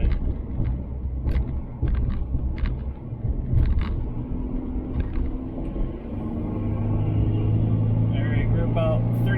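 A Nissan truck, a Frontier or Xterra fitted with an aftermarket intake spacer, drives onto the highway at about 40 mph, giving a continuous low engine rumble and road noise with faint rattles, building steadily toward the end.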